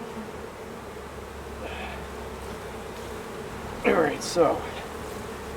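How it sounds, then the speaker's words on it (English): Honeybees buzz faintly and steadily around an opened Layens hive outdoors, with someone speaking briefly near the end. "I weren't disturbing too many bees when I cut into this"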